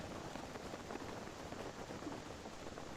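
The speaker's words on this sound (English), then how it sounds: "I hate the rain, man." Steady rain falling in a video game, a constant even hiss of drops across the whole stretch with no talk over it.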